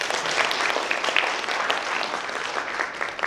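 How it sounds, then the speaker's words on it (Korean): A seminar audience applauds for a company president, a dense, steady wash of many hands clapping throughout, close and loud with no talk over it. "우리 힘진 회사의 한의관 사장님 성공하시라고 큰 박수 부탁드리겠습니다."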